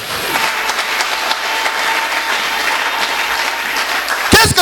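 A church congregation applauds the Lord in a steady, loud wash of clapping that fills the room without a break.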